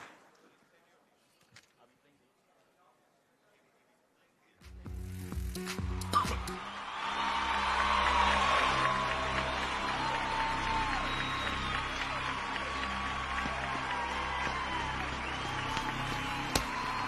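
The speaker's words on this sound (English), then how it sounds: "Big round of applause, ladies and gentlemen, to all of them." Audience applause at a conference session, starting abruptly after a quiet pause and swelling into sustained, full clapping from a large seated crowd that continues steadily to the end.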